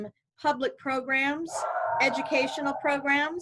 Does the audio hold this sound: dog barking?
yes